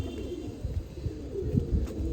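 Pigeons in a loft cooing, soft low throaty coos repeating close by over a steady background hum.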